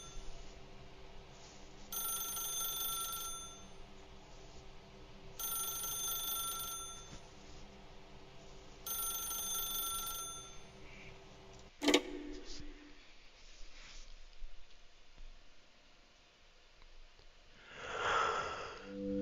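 Telephone ringing in The Stanley Parable, three steady electronic rings repeating at even intervals over a low ambient hum, followed by a sharp click and quieter rustling noise.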